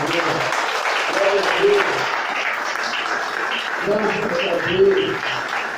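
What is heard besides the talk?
congregation applause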